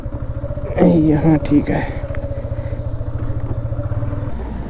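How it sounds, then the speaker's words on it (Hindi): A motorcycle ridden up and parked in Rudraprayag in the hills, its engine chugging in a steady close rhythm of rapid low pulses, with a brief rattle and someone speaking over it before it idles down. "यहाँ पर मैंने बाइक पार्क कर दी है"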